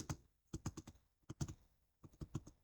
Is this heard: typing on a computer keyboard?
yes